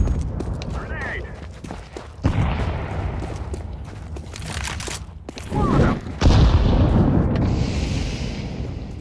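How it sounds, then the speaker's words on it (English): A grenade explodes in the Counter-Strike 2 video game with a sharp boom, followed shortly by another burst, as gunfire crackles around it and players call out over the action. "Grenade!"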